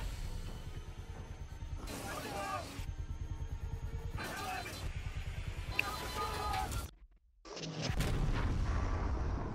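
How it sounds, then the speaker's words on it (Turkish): Explosions rumble in the video game Ghost Recon Breakpoint as a helicopter blows up, giving repeated deep booms and bursts under steady talk. A brief hush near the end gives way to a louder roaring blast. "Yine patlama çatlama klasik."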